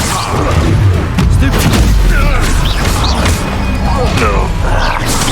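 Confringo blast spell explosions in Hogwarts Legacy, heavy booming and crashing hits repeating over dense combat noise, loud and close, with a voice calling out during the fight.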